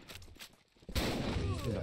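Sniper rifle fire in the online shooter RushTeam: a few quick shots early on, then one loud, sharp blast that rings out and fills the rest of the moment, with a voice audible alongside.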